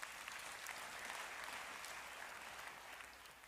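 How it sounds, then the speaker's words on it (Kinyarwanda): Sustained applause from a church congregation during a sermon by a deacon, a dense steady wash of clapping that holds throughout and tapers slightly at the end. "Dukomere Imana amashyi."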